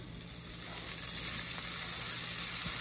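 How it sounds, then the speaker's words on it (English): Chipped beef fries in melted butter in a pan with a steady, close, bright sizzle that stays fairly loud throughout and is heard alone without talking. "We're gonna cook our beef in the butter, more flavor."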